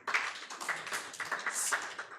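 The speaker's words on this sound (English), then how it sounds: "can we kindly clap for him?" An audience at a youth work anniversary celebration claps in a short, faint burst of dense, overlapping applause.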